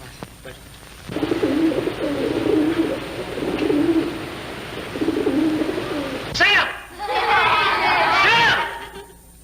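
Pigeons coo and flutter in a classroom setting while children chatter and someone talks loudly over them, the birdsong blending into the lively crowd of voices.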